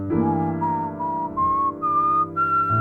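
Whistled musical scales and arpeggios climb steadily through clear, sustained tones over a held backing chord, close and fairly loud with short breaks between phrases.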